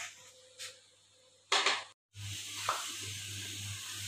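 Potatoes frying in a pan of hot oil for an aloo masala, a steady sizzling hiss that breaks off briefly, then returns loud with a continuous low hum beneath, and no one speaks.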